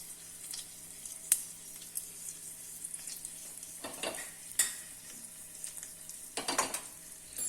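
Red chilies and a pinch of hing crackle softly in hot oil for a tempering, with faint steady sizzling broken by a few clinks and stirring scrapes.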